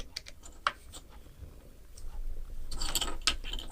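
A screw on a sewing machine being loosened to fit a seam guide, giving small close mechanical clicks and ratcheting metal sounds that build into a denser, louder scraping toward the end.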